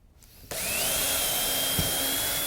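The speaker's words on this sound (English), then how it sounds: "I'm going to pre-drill this hole." A power drill starts abruptly and whines steadily at a constant pitch, loud and close, drilling a pilot hole in wood without pause through to the end.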